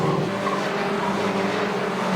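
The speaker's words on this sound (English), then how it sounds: "And the spinning car is Martin Walker." A Caterham race car spinning off the track at Rockingham in a 2001 Roadsports race gives a loud continuous engine roar mixed with tire skidding, close and steady throughout.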